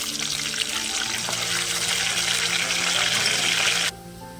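Tomato rasam poured into a hot cumin and curry-leaf tempering hisses and sizzles steadily with a watery bubbling rush, close and loud, then cuts off abruptly near the end.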